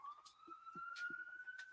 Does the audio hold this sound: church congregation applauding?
no